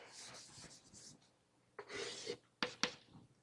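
Chalk or marker writing on a board during a physics lecture on quantum information and string theory, heard as a few scratchy strokes, with the longest burst in the middle and two sharp taps near the end.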